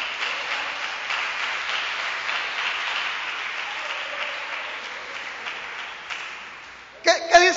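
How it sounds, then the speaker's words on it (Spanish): Applause from a church congregation at an evening evangelical service, a steady broadband wash of clapping that holds for several seconds and fades before a short louder burst near the end. "Denle aplausos en esta hermosa noche."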